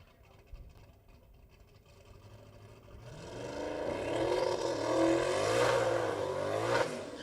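A turbocharged drag racing car launches on an eighth-mile pass, its engine note rising from a distant rumble into a loud, climbing roar with shifting revs before tapering as it pulls away down the track.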